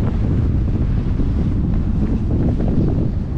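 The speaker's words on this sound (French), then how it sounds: "il y a un vent de fou" Strong wind buffets the microphone on a coastal trail during an ultra trail race along the Côtes d'Armor, a loud, constant low roar with gusting rumble and no speech.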